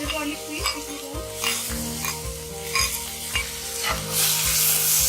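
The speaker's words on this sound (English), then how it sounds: "Roast the ginger garlic paste till they are roasted nicely." Ginger garlic paste roasts in a hot pan with a steady close sizzle and frying crackle, broken by repeated stirring scrapes and a few sharp utensil clicks.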